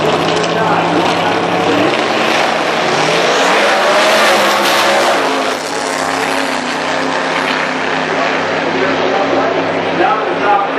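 A 2010 Mustang race car idles and revs at the line at a drag strip in Whiteman, Indiana, its loud engine droning steadily with crowd and announcer noise mixed in, easing slightly near the middle before building again.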